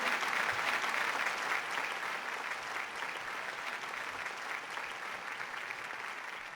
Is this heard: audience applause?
yes